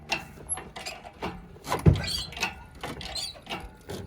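An engine crane hoisting the engine out of a Mercedes W123, with intermittent creaks, clanks and scraping metal, including one sharp knock, close by with no talking.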